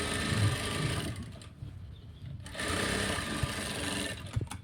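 A sewing machine stitches a side seam on a sleeve of a garment, whirring loudly and steadily nearby, pausing briefly midway before running again.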